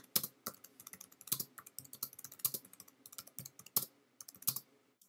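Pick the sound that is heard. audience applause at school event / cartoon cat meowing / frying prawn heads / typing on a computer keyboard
typing on a computer keyboard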